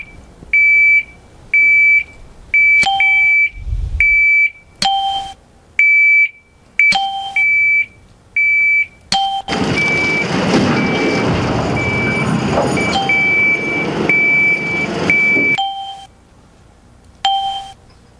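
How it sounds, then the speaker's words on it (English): A vehicle backup alarm sounds a loud, steady series of evenly spaced electronic beeps close by, joined partway through by a broad rumble of a working truck before the beeping carries on alone. "the importance of backup alarms and why we use them"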